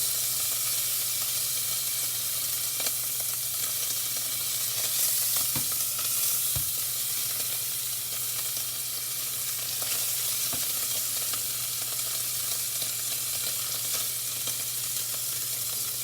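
Beef short ribs sizzle in a pan, a loud, close, steady frying crackle running without a break, with a few faint knocks and no talk.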